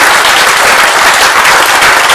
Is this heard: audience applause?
yes